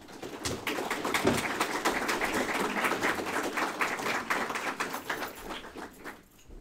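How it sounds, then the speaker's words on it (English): An audience at the TCAT McMinnville signing day event claps in a brief burst of applause, moderately loud and fairly even, fading out after about six seconds. "Let's give them a round of applause, because we are committed to you."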